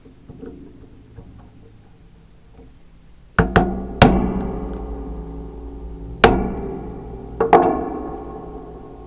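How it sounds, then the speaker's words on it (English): A chisel is struck with sharp, ringing hammer blows to chop dovetail waste from wood, four or five loud hits spaced a second or two apart after a quieter lead-in. "So that was the chisel only method."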